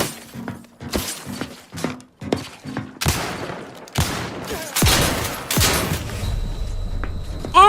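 Gunfire in the video game Outer Worlds 2 cracks out in bursts, a few spaced shots and then dense volleys with shattering impacts, loud and close with no talk.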